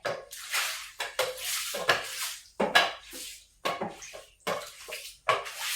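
Curry leaves being chopped with a knife, a run of sharp, uneven cutting strokes close by with short pauses between them, fairly loud and with no talking.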